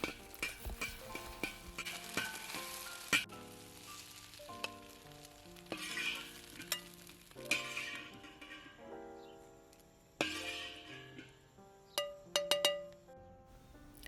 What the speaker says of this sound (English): We're going to give it a quick scramble too.